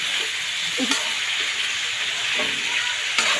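String beans go into a pan of cooking pork liver, a loud dense sizzle and hiss throughout with a couple of sharp clatters of utensil on pan, no voices.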